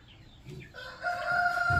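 A rooster crows among farmyard chickens fed banana and bran, preceded by soft clucks; the drawn-out crow rises midway and holds loud and near to the end, with no talk over it.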